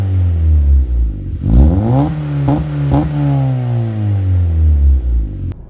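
A car with a cutback exhaust, racing suspension and a racing clutch revs loudly and close, its engine note swooping up and down through several throttle blips before settling to a deep idle.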